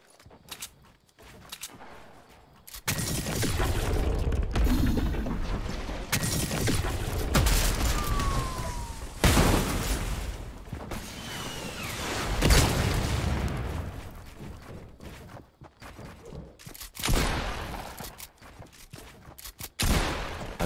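Gunfire in the video game Fortnite, with bursts of shots and rapid volleys that come and go at varying distances, some sharp and close, separated by quieter stretches.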